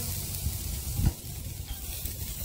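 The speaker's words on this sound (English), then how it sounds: "I think it's time to give these steaks a flip." Steaks sizzle on a Pilot Rock park model grill just after being flipped, a steady close frying hiss with a brief louder burst near the middle, no talking over it.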